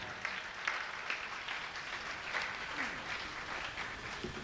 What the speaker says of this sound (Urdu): تشریف لاتی ہیں آپ کی تالیوں میں ڈاکٹر شاہدہ دلاور شاہ لاہور سے